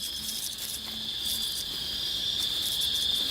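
A cricket chirps steadily in a nature setting, a dense continuous high trill close by, with no other sounds.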